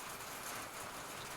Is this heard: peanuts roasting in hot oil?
no